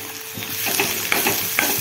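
Chopped onion with ginger, garlic and chilli paste fries in a pan, a brief close-up sizzle with rhythmic scraping strokes of a stirring spoon.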